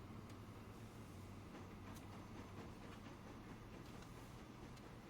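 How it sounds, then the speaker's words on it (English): Freight trains roll through a rail network in the Transport Fever simulation game, a faint, continuous low rumble with soft clattering, heard alone without talk. "Another food train coming out"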